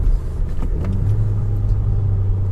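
Honda Civic Type R FK2 engine heard naturally from inside the car in winter, a steady low droning rumble at close range with a slight rise in pitch partway through, unaccompanied by speech.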